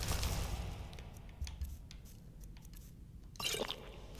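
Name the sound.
drinking from a water skin in video game Skyrim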